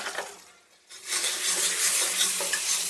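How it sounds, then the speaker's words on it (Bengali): Ground cumin, coriander and turmeric with ginger paste being stir-fried in a pan, a close steady sizzle with scraping spatula strokes, briefly dipping before the frying hiss swells again. "মশলাটা একসাথে খুব ভালো করে কষিয়ে নেব।"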